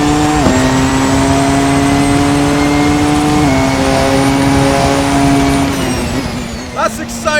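Porsche 919 Evo race car engine under hybrid boost: a loud, close, continuous high-pitched howl that holds steady, steps up through gear changes, then falls away at the end.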